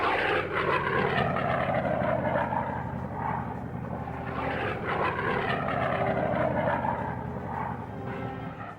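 P-47 Thunderbolt fighter planes flying in formation, a continuous loud propeller-engine drone that swells and ebbs slightly, with no talk.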